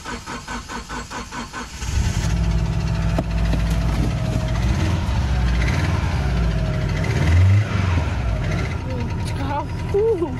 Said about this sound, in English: do you think it'll start now that we got the battery in?